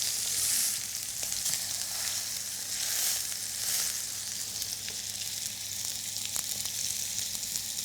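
Burger patties, cooked rare for teenagers, fry in a hot pan with a steady, close sizzle that crackles continuously throughout, with no voices.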